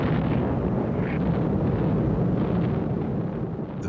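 Incendiary bombs from a B-29 raid over wooden houses explode in a continuous, heavy, roaring rumble, dense and steady throughout without distinct individual blasts.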